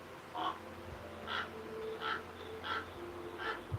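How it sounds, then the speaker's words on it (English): A raven calls repeatedly, five harsh caws spaced roughly a second apart, moderately near over a faint steady background hum. "Oh, that's definitely a raven."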